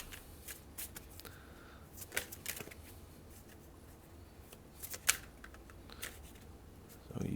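Tarot cards from a Morgan's Tarot deck being shuffled, with faint, scattered riffles and flicks at close range and a low rumble building at the very end.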